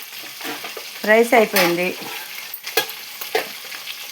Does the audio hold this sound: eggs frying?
yes